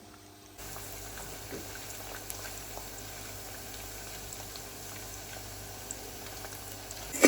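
Potato chips fry in hot oil, giving a soft, steady bubbling sizzle that runs without a break after a brief quiet start, faint and close.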